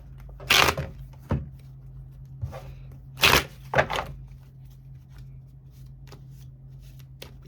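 Tarot cards are shuffled close by in several brisk riffling bursts separated by pauses, with softer taps and handling sounds between them against a faint steady hum.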